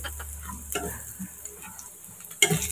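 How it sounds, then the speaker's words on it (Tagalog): Garlic sautéing in a dry pan with no added oil, a steady sizzle and fry that runs under the whole stretch, with a sharper scrape or clatter near the end. "igisa na natin ang bawang"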